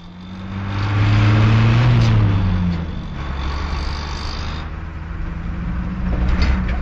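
A bus travelling along a road, its engine drone swelling loudly and then settling into a steady rumbling hum with road noise.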